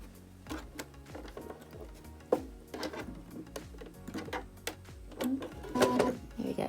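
A home sewing machine slowly stitching a contoured waistband seam, running in short, uneven bursts of rhythmic needle clatter with brief pauses, close and moderately loud.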